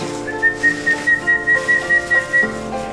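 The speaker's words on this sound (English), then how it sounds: "So a little whistle is what we use to get their attention as they start growing up." Melodic whistling to call young Vizsla puppies, a run of about ten short rising-and-falling pulses, close and clear, with no talk over it.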